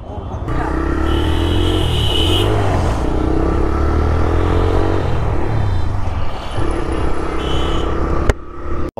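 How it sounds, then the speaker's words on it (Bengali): A motorcycle just bought from a shop runs on a test drive, its engine a loud, steady drone with rushing wind noise for the whole stretch and some talk mixed in, ending in a sharp knock. "অবশেষে আমরা দোকান থেকে বাইকটা নামিয়ে নিলাম, আর এখন টেস্ট ড্রাইভ দিচ্ছি"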